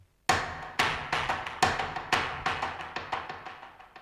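A percussion loop from Heavyocity's Uncharted 88 library plays as a driving pattern of sharp, bright hits. Each strike decays quickly, and the hits come in an uneven, quickening rhythm that builds intensity.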